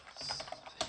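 Quick keystrokes tap on a computer keyboard at a terminal, a short burst of soft, close clicks in an uneven rhythm ending with a sharper final key press.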